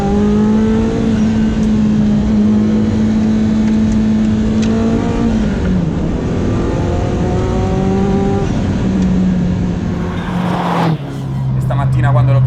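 A Ferrari F40 supercar with new turbos, upgraded ECUs and new fuel tanks revs hard through the gears, loud and close, with rising engine tones and shifts, then a sharp burst near the end as it passes, with talk over it.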